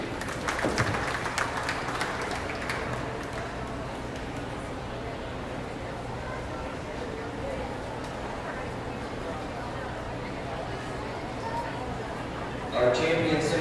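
A crowd claps steadily at a 2025 beef cattle show, the broad applause holding through most of the stretch while an announcer's voice carries over it.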